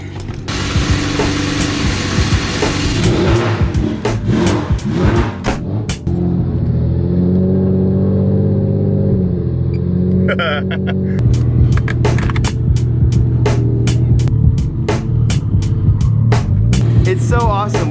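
Two generations of Nissan six-cylinder engines, a VR38 and an RB, idle loudly side by side with straight pipes, rising into sharp revs and crackling pops, with a steady throbbing hum between blips and a voice speaking briefly.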